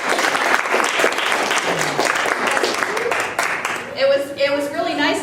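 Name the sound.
audience applause for the speaker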